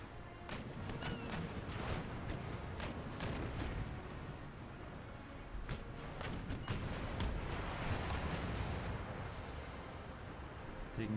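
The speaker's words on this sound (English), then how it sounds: "Close enough for small arms fire now." Musket volleys crackle and boom through an Empire: Total War land battle, dense and continuous with overlapping shots and distant cannon-like thuds, loud throughout.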